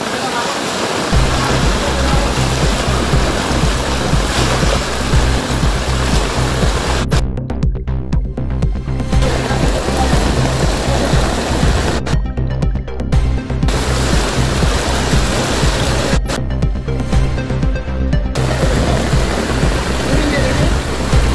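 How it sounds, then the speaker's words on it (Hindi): Fast-flowing floodwater surges through Hyderabad streets after heavy rain, a loud unbroken roar close by that drops away in a few brief gaps, with voices faintly mixed in. "इतनी स्पीड आ रहा है पानी।"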